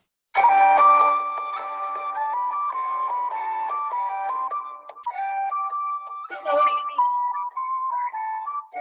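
Recorder melody of an Irish jig, a bright, piping tune played in a bouncy rhythm, loud and close with no talking.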